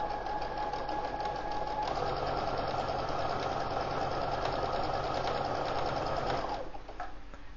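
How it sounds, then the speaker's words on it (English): A sewing machine runs down a folded piece of fabric, with a loud, steady, rapid stitching whir held for about six seconds before it slows and stops. "I'll just sew down the middle of this folded piece of fabric."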